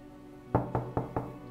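Four firm knocks sound on a door, evenly spaced and close, standing out clearly against a quiet room.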